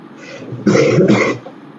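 A man coughs and clears his throat, two close, loud, rough bursts in quick succession with a faint lead-in before them.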